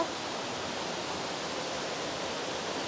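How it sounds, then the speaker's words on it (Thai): A strong-flowing waterfall in Chiang Mai after heavy rain roars as a dense, steady rush of water, constant and loud with no pauses or voices. "ตอนนี้น้ำแรงมาก"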